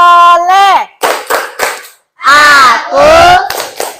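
Schoolchildren in a classroom perform the tepuk anak soleh clapping chant, loud sung and shouted phrases punctuated by sharp rhythmic claps in short bursts with a brief pause in the middle.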